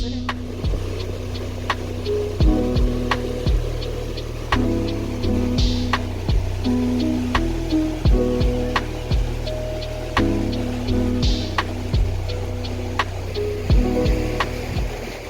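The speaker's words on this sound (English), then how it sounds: "It's garbage truck day, so that's why you hear the banging." A garbage truck works outside, its low engine rumble steady underneath as repeated metallic bangs and clunks come every few seconds, fairly near and loud.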